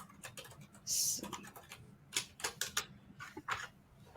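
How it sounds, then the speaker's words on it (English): Quiet keyboard typing: scattered clicks and short bursts of keystrokes at an irregular pace, faint and close, with no talk over them. "I hear typing."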